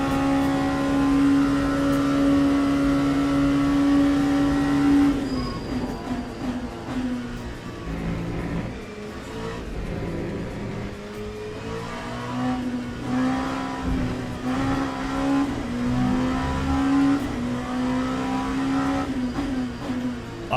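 McLaren GT3 race car engine in the Le Mans Ultimate racing game, a loud steady drone that shifts down around five seconds, then rises and falls through repeated revs and gear changes, continuous and up close with no talk.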